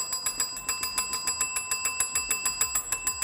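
A small bell rung rapidly and repeatedly, a bright metallic ding struck about six times per second in a steady rhythm, close and clear with no talk.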